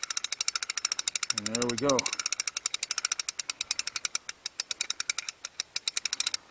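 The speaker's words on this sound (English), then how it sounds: "So now we can put the ratchet on." A ratchet clicks rapidly and evenly on bolts while a boat trailer winch is fitted, a long run of sharp, close metallic ticks with someone speaking briefly in the middle.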